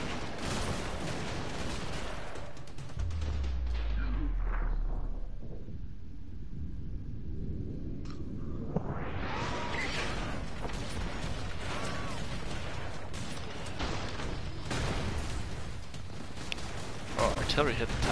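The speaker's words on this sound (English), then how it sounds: "Artillery hit the top, that didn't help." Artillery fire in the video game Broforce, heavy booming blasts and rumbling explosions rolling through the middle, mixed with clattering gunfire and game effects while people talk over it.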